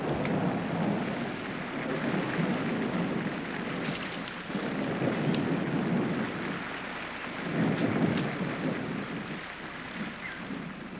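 Rain and thunder in a forest: a steady roar of rain with deep, rolling rumbles swelling and fading through, sounding broad and fairly loud, with a few faint sharper ticks and no voices.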